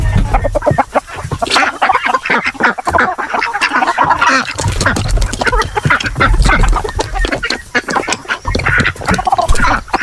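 Heritage chickens on a mini farm with other fowl, likely ducks, keep up a dense, loud chorus of clucking and squawking close by, with no one talking.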